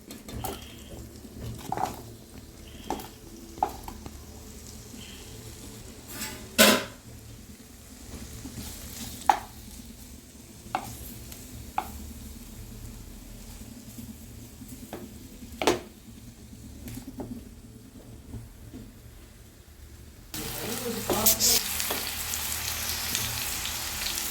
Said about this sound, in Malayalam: ബട്ടർ മെൽറ്റായി വരുമ്പം നമുക്ക് പനീർ അതിനകത്തിലൊരു ഹാഫ് ഫ്രൈ ചെയ്തെടുക്കാം